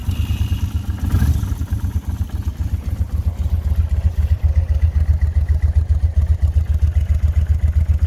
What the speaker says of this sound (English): then we'll fire up the bike